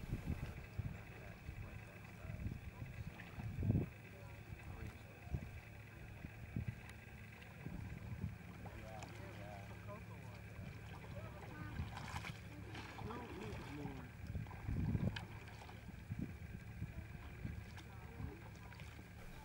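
An Ootek boat glides smoothly across open water, giving a steady wash of water and wind noise with low rumbling and occasional soft splashes throughout.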